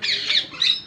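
A wild female Indian ringneck parrot gives harsh, loud, close squawks, two longer calls and then a short clipped one, with no talking.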